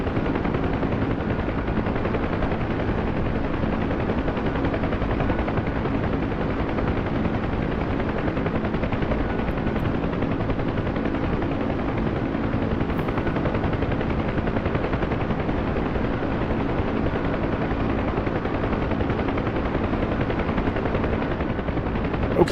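A Huey helicopter in the DCS flight simulator drones steadily throughout, its rotor chop and turbine whine forming a loud, unbroken cabin roar with no talk.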